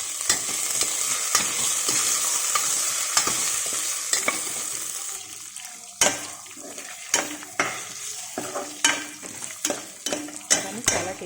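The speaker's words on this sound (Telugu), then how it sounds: "ఇందులో కూడా మష్రూమ్స్ వేసి కలుపుకోవాలి" Mushrooms stirred in a frying pan sizzle steadily at first, then a spatula scrapes and knocks against the pan in a quick, irregular series of close, distinct strokes.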